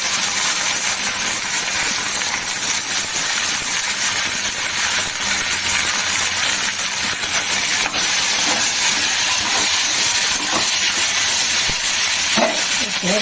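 Ginger-garlic paste and tomatoes sizzle in a hot pan for a home-cooked Bengali meal, a loud, steady frying hiss that fills the whole stretch without letup, with no talking.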